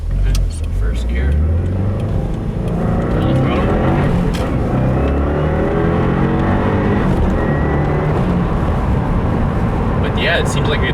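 A 2015 Subaru WRX fitted with a Cosworth high-flow panel air filter pulls hard in first gear, its engine note rising steadily in pitch and loud throughout, with someone talking over it inside the car.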